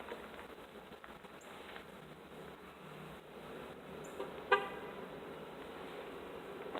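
A bus horn gives a single short toot outdoors, moderately loud against a steady background hum of traffic, with no talking.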